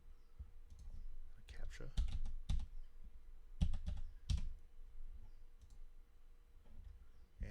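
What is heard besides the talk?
typing a password on a computer keyboard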